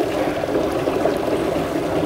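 Water pours steadily into a rain barrel on a homestead garden, a continuous close splashing rush that holds even across the two seconds with no pauses.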